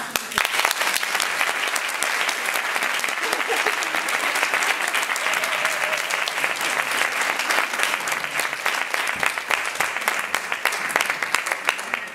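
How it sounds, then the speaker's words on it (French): An audience gives a singer a big round of applause before a performance, sustained, dense clapping from many hands, steady and fairly loud throughout with a faint voice underneath at moments. "Un grand applaudissement."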